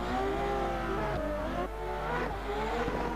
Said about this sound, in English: Lotem Shafir on the yellow Supra